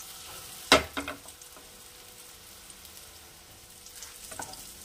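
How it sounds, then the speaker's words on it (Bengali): Paneer kababs shallow-frying in a little oil in a pan give a quiet, steady sizzle, with one sharp clatter near the start and a few softer knocks. "আমার এই পনির কাবাবগুলোকে শ্যালো ফ্রাই করা হয়ে গেছে।"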